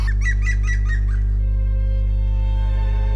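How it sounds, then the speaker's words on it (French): Songbirds such as a chaffinch and a wren, with a woodpecker, call along a pilgrimage trail to Compostela. A brief burst of repeated chirps sounds over a strong steady low hum, then fades, leaving only the drone. "Un oiseau chante en passant, le pinson, le troglodyte,"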